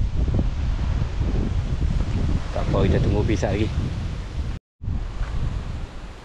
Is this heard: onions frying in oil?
no